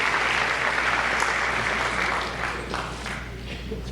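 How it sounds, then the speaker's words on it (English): Steady applause from an audience fills a high school senior awards night, dense, even clapping at moderate distance that softens slightly toward the end, with no voices over it. "That's a clap."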